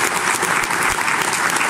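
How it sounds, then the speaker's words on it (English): A room full of people breaks into sustained applause at a Landsat hand-off event, a dense, loud, even wash of clapping with no pauses. "I think we all owe ourselves a round of applause"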